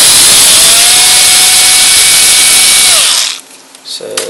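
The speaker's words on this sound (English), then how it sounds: "There's a Torx screw in there, so simply unscrew it" A power screwdriver backs out a Torx screw on the Wi-Fi connector of an Xbox 360 S Trinity console, a loud steady whirring whine lasting about three seconds before cutting off, followed by faint handling sounds.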